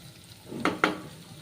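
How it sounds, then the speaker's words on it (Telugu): Curry leaves and onions frying in a pan for a Telugu amaranth leaf curry, with a soft sizzle under two sharp scraping stirs close together near the middle. "ఇవి మనకి నీట్గా ఫ్రై అవ్వాలి ఓకేనండి చూసారా ఫ్రై అవుతున్నాయి"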